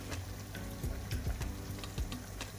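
Beans stew bubbling and simmering in a pan, a low steady sizzle dotted with soft pops and gentle bubbling, no voices.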